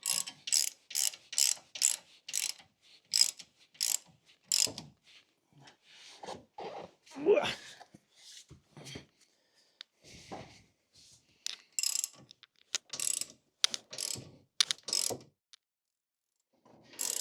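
A hand ratchet clicks in quick, close bursts of pawl clatter while tightening bolts on a UTV snowplow mount, the bursts separated by short pauses.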